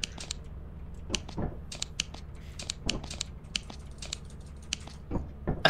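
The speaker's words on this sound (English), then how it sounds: "That was my keyboard." Computer keyboard typing during an online Lethal Company gaming session, quick irregular clacks of keys in bursts, fairly close and moderately loud over a steady background hum, with no talking.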